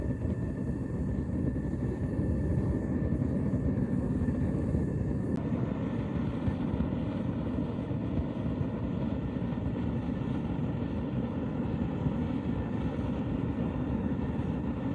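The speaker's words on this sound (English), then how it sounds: "Now that the propane furnace is lit and fired up" A lit VEVOR 12 kg propane metal-casting furnace roars with a steady, dense rushing flame, close and unbroken throughout, with no voices.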